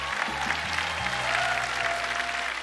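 A large audience at a Korean language ceremony applauds throughout, a dense, sustained clapping that fills the space with no pause.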